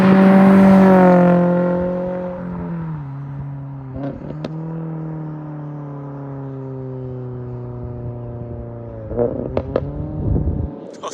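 A Toyota GR86 revving in a snowy setting, engine drone rising and falling with a few sharp exhaust pops and crackles near the start and a cluster of louder pops toward the end, close and loud.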